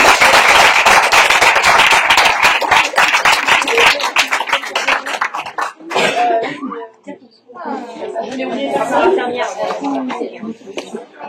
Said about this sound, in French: C'est applaudi.